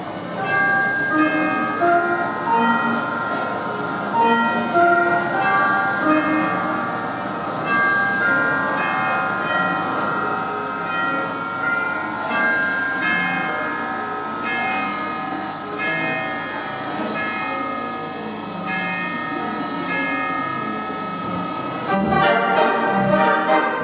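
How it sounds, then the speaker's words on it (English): Bell chimes ring out within an orchestral recording, tolling steadily alongside sustained instrumental tones throughout. "If you listen really carefully, we'll have the chimes."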